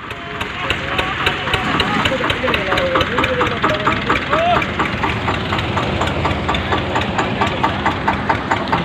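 An Eicher 241 tractor stuck under a heavy trolley load, its engine pounding with a fast, steady knocking beat throughout, loud and close, with voices shouting over the machine.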